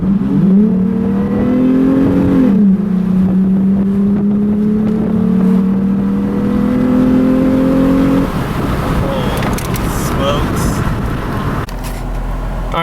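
A 2017 Toyota 4Runner fitted with a K&N intake accelerating on the road, engine note climbing in pitch through a loud, close rev before easing off into road and wind noise.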